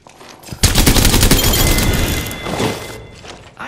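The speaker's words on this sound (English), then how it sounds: "The enemies are shooting." Dense, continuous automatic gunfire from an Apex Legends match on PS4, rapid loud bursts with heavy booming impacts running almost nonstop after a brief quiet start, with no talking.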